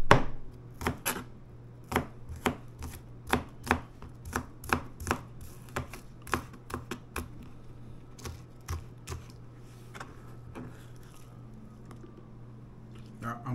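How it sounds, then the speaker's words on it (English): Knife chopping the ends off green peppers on a cutting board: a string of sharp, close cuts in an uneven rhythm, with a steady low hum underneath. "They're green peppers, but I don't remember what type. And I cut off the ends."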